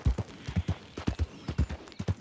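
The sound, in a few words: horse hooves clip-clopping in Red Dead Redemption 2, video game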